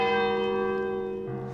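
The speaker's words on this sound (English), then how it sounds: "Well, the bell struck 12." A single deep church-style bell rings out, its struck tone hanging in a long, sustained ring that slowly fades, heard alone with no voices.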